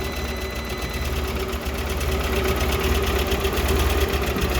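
A cold Polaris Ranger/Sportsman 700 engine with low oil pressure idles steadily, a constant mid-pitched, slightly knocking mechanical drone close by with no talk.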